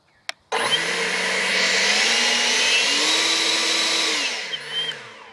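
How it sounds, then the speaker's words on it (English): An Ego LB6504 56V cordless leaf blower whirs up after a brief click and runs as a steady, loud, close airflow roar, its pitch shifting slightly as the speed changes, then it begins winding down at the end. "If you're going to be blowing for long periods of time, there's a dial on the side that you can use to set various speeds of the blower"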